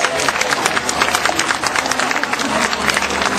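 An audience claps and cheers for a tiger that has just swum across a pool at an animal park show, a steady crowded wash of applause with crowd noise mixed in.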